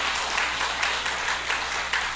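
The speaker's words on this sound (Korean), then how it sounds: "한번 큰 박수 한번 해주시기 바랍니다." Sustained applause from a church congregation during a Sunday morning worship service, dense steady clapping filling the room without a break for a couple of seconds.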